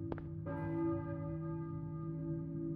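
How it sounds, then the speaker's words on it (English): A single church bell in Silent Hill strikes once after a faint earlier tap, its deep ringing tone sustaining and slowly decaying over a quiet, otherwise still background. "I hear a church bell, maybe."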